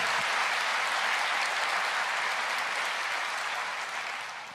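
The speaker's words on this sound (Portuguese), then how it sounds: "Pode aplaudir, se expresse." A church congregation applauds together during a Portuguese-language sermon, a dense, steady wash of clapping that holds for several seconds before tapering slightly at the end, with no voices over it.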